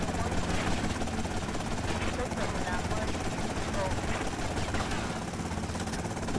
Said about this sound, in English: We took the gunman out of this helicopter